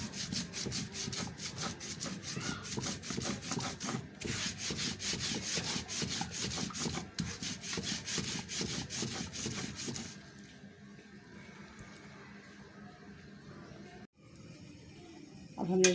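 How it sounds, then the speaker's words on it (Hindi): Poppy seeds ground by hand on a stone silbatta, a steady rough rubbing and scraping rhythm that runs for about ten seconds, then drops to a faint, quieter scrape near the end. "देखिए, आपने इस तरह पीसना सिलबट्टे पर।"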